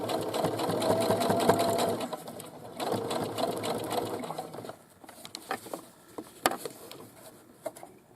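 A sewing machine stitching the straps of a boomerang bag runs in close, steady bursts, then stops, leaving quieter handling clicks and rustles.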